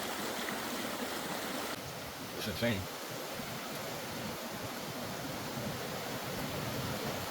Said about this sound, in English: We've gone from a trickle to this. Walking up this creek